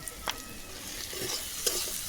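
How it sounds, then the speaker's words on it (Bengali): Turmeric, chili powder and salt are stir-fried with garlic in a pan for a fish curry. Close, continuous sizzling is broken by several spatula scrapes and taps, and no one speaks. "সেগুলোকেও খুব ভালোভাবে আমি এর সঙ্গে কষিয়ে নিচ্ছি"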